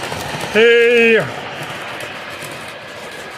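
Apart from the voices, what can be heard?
Menards Union Pacific HO model train engine sound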